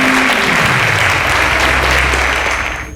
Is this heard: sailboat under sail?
no